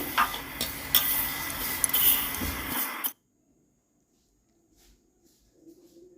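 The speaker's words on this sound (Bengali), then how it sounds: "খিচুড়ির ডালটা আমি ভেজে নিচ্ছি" Moong dal dry-frying in a pan for khichuri, a close scraping stir with faint sizzle and utensil clinks for about three seconds, then near silence.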